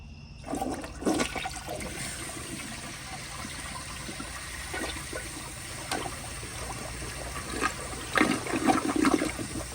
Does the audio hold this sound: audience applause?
no